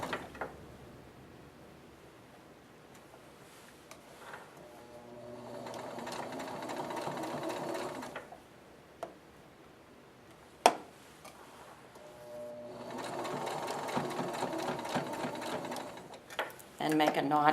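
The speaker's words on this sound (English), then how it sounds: "we're going to make a knot in reverse and then begin sewing." A sewing machine stitches fabric in two sustained runs of rapid whirring, separated by a quiet pause with a sharp click, with speech heard in the background.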